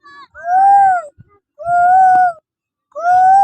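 A person's voice mimics a cuckoo's call with three sustained, tonal hoots of rising then level pitch, each separated by a short gap. The voice is loud and close.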